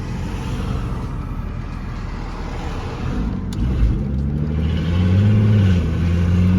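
A VW Golf R32 Turbo, a MK5 fitted with Golf R clutch packs, pulls out of a junction. Its steady engine drone builds as revs climb, loud and close from inside the car.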